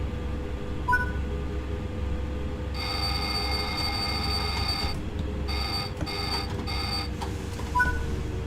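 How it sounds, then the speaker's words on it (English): In Train Sim World 5 on the Zwolle–Groningen line, an ATB overspeed alarm rings in loud repeated bursts over a steady low train cab rumble, starting about a third of the way in and pulsing several times. "When the alarm sounds, apply braking until the train speed has reduced below the current restriction."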